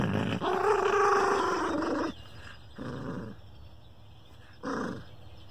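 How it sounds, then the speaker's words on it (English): A dog growls in play, rumbling in one long throaty stretch and then in two shorter bursts separated by pauses, close and fairly quiet with no talk. "Listen to me growl."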